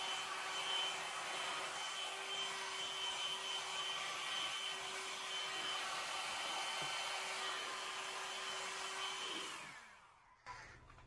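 A blow dryer set on high runs steadily and loudly up close with a constant whooshing roar and a steady whine, then cuts off near the end.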